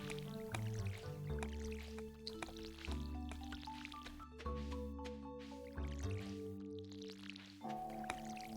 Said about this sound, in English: Fill up our watering can, and we'll start from this corner here.